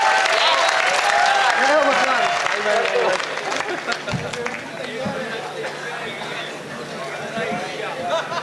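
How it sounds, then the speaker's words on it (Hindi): Applause from the audience at a kavi sammelan poetry gathering in Garoth, loud clapping mixed with crowd chatter that eases into babble and scattered voices. "आप जरा जोरदार तालियां बजाएं।"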